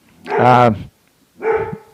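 A dog barks outside, two separate loud woofs spaced about a second apart and heard close, with nothing else in between.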